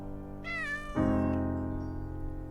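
A cat meows in a children's musical play based on the Bremen Town Musicians: one clear, drawn-out rising and falling meow, close and fairly quiet, followed by a sustained low musical tone.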